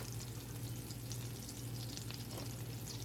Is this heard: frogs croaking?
no